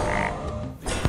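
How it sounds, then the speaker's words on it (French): A frog croak from the Hearthstone video game's polymorph-into-frog effect sounds over a busy game soundtrack, with a short, sharp croak near the end of the brief moment. "Donc là, je t'ai transformé en grenouille"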